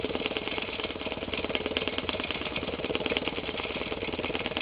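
A longarm quilting machine stitches through thick quilt layers with a fast, steady mechanical chatter, a continuous close rattling hum that carries on without a break.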